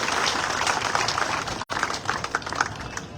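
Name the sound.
crowd applause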